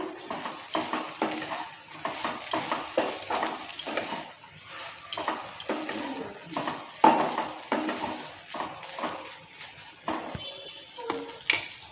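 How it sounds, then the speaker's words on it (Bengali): Veg chowmein being stirred in a pan after Maggi masala is added, with a steady run of scraping, clattering utensil strokes against the metal, fairly close and continuous, with a faint sizzle underneath. "ম্যাগি মশলাটা দেওয়ার পর ভালো করে আবারও নেড়ে নিচ্ছি"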